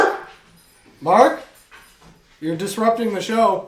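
Dogs barking in the background of a casual podcast recording, brief yips and barks popping up between and under people talking nearby.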